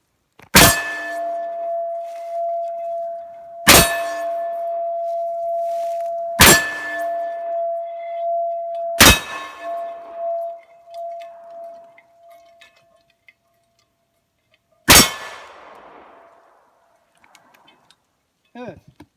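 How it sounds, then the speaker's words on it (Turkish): Five loud 12 gauge shotgun shots strike a steel target outdoors, each a sharp blast followed by a ringing metallic clang that hangs and decays, spaced roughly three seconds apart with a longer pause before the last. "Şimdi bir şarjör 12 kalibre ile başlıyorum."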